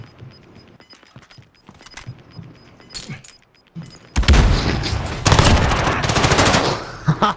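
In a video game, a silenced gun fires in rapid bursts. Faint taps and clicks come first, then a sustained loud volley of shots that runs to the end.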